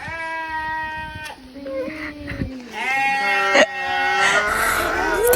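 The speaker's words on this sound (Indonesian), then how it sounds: "Itu kayaknya kambingnya ngamuk karena lihat kita." A goat bleats repeatedly outdoors on a fresh morning, loud and near, with wavering drawn-out cries that overlap one another.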